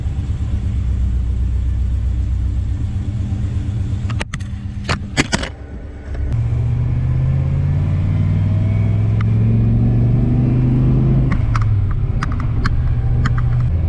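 Nissan Patrol fitted with an LS1 V8, driving around the block: a steady, loud low engine rumble throughout, briefly interrupted by a few sharp knocks mid-way before the drone resumes and rises with acceleration.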